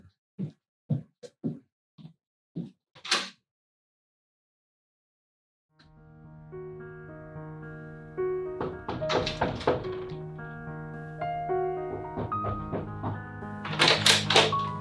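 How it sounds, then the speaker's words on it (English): Knocking on a door indoors: a few crisp, separate knuckle raps on wood near the start, followed by quiet and then a long stretch of other room noise. "you didn't hear me knocking just now?"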